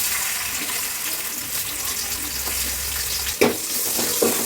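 Onions frying in a pan for masala puri, a steady hissing sizzle close up with a couple of brief clinks from stirring near the end, no voices.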